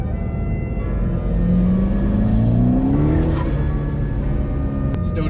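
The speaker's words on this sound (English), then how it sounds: "So here's second gear." Car pulling hard in second gear on fresh Michelin PS4S tyres at a track day, a loud, close engine rising steadily in pitch as it accelerates over several seconds.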